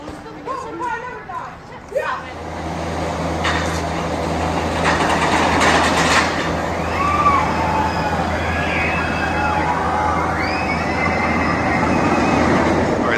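The X2 roller coaster at Six Flags Magic Mountain roars along in a loud, continuous rumble and rattle, with shrieking rider voices rising over the noise after a brief stretch of nearby chatter.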